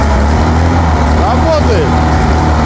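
A car engine fitted with a stack of ten head gaskets runs after starting, a steady low rumbling hum with voices speaking over it.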